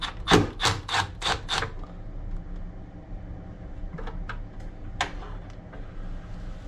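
Screws being backed out of the sheet-metal covers on an LG Multi V concealed duct unit with a screwdriver, heard as a quick run of five sharp metallic clicks and taps, followed by scattered fainter ticks and clinks.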